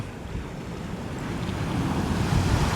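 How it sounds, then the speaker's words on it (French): Waves on a beach in Bali roll in a broad, steady wash that swells slightly louder toward the end, mixed with wind buffeting the microphone. "je vous présente cette plage qui est magnifique"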